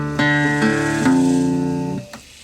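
An electric guitar plays a muddy drop D riff phrase: picked notes with a slide and a held, ringing note, loud and close, finishing with a brief muted pluck, no voice.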